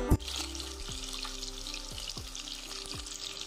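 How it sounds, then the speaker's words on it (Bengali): Katla fish sizzling steadily in hot oil in a home kitchen, a continuous bright frying hiss with a sharp clink at the start and soft periodic bumps beneath. "মাছগুলোকে হালকা করে ভেজে তুলে নিচ্ছি।"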